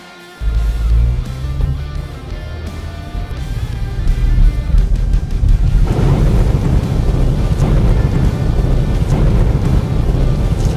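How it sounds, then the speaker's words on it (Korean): A car enters a flooded road at 30 km/h, surging through deep water with a heavy rushing, splashing roar that builds and stays loud and continuous as a strong bow wave forms; water is drawn into the intake and the engine stalls. "먼저 시속 30km의 속도로 침수 구간에 진입해 보겠습니다."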